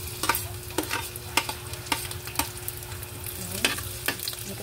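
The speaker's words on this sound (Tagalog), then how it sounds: "Ayan, medyo mainit ang ating kawali. Ilalagay na natin ating sibuyas." Onion and garlic crackle in a hot pan over a steady sizzle, with repeated sharp spatula scrapes and taps at an uneven rhythm, close-up and without speech.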